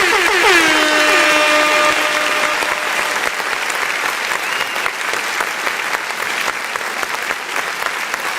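Loud, dense applause fills the scene throughout, opening with a brief wavering horn-like blast that fades after about two seconds while the clapping continues steadily.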